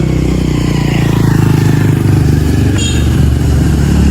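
A motorcycle rolls past on a roadside near the Aceh–North Sumatra border, its engine droning loud and steady close by throughout, with a faint rattle riding on top.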